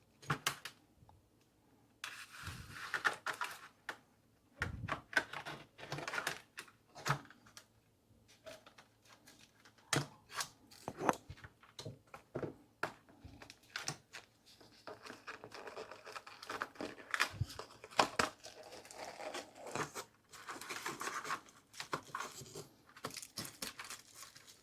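Packing tape is cut and peeled off a Thyme & Table gold knife set box in a string of sharp rips, crinkles and scratchy bursts, irregular and close, with quiet gaps between.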